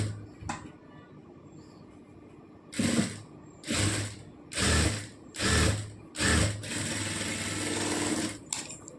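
A sewing machine stitches a churidar neckline in five or six loud, rapid mechanical bursts, each about half a second long, separated by short pauses, then one longer continuous run near the end, close up with no talking.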